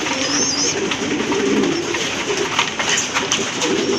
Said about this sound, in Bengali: আপনারা দেখতে পাচ্ছেন এক জোড়া মুখী কবুতর